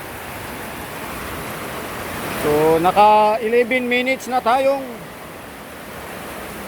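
Heavy rain pours over a flooded river in Montalban, Rizal, a dense, steady hiss throughout, with someone speaking briefly over it midway.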